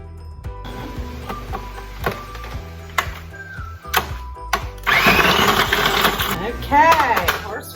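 A blender chops a tough root for fire cider, a harsh grinding whir that surges loudly partway through in uneven bursts, after a stretch of clattering and knocks, with someone speaking over it.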